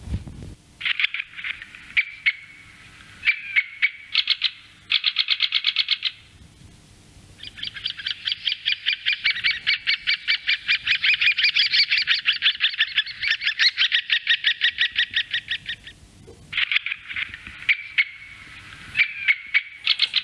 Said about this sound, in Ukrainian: Чомусь важкувато, але я думаю, що це дятел звичайний.